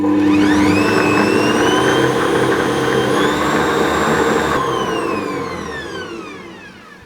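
An electric mixer whirs steadily and loudly as it blends cake batter with apple puree for a fudge cake, its pitch rising and holding, then gliding down as the motor slows and fades toward the end.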